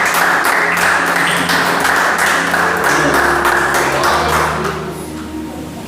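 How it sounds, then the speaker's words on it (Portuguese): A church congregation claps together in a loud, dense burst of applause that thins slightly toward the end, over a low sustained hum. "bater uma salva de palmas"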